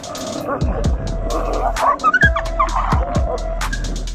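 A Mastiff and a German Shepherd fight, with close, loud snarls, yelps and barks in irregular bursts over a steady low background hum.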